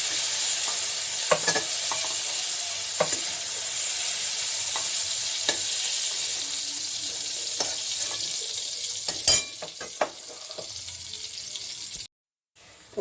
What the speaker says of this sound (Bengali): পেঁয়াজটা আমার মোটামুটি ভেজে নিয়েছি লাল হয়ে গেছে